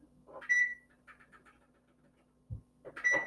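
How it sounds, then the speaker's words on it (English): A kitchen timer being set for ten minutes while peanut butter cookies bake, giving a few close, clear electronic beeps: one early, then a short pause and a low thump, and more beeps at the end. "And I'm going to set my timer"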